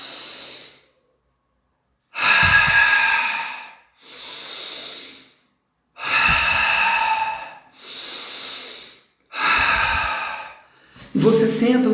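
Several deep breaths for a relaxation breathing exercise, each a loud, airy inhale or exhale lasting about a second, separated by short pauses, close to the microphone, with a sharper breath at the very end.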